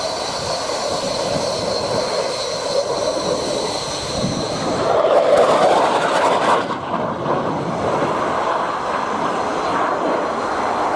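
Swedish fourth-generation fighter jet with short takeoff and landing capability flying at an air show, a loud continuous roar of jet engine noise that swells midway as it passes, steady and broad throughout.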